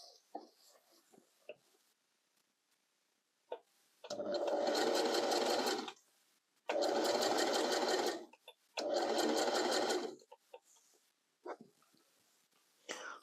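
A sewing machine stitches a gathered skirt while avoiding the gathering cord, running in three firm bursts of a few seconds each, separated by short pauses and light handling noises.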